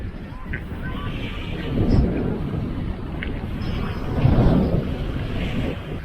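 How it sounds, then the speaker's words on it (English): Strong Meltemi wind buffets the microphone in heavy rumbling gusts on Ano Koufonisi, Greece, swelling louder twice, with water and boat noise underneath. "But man, it is a windy day."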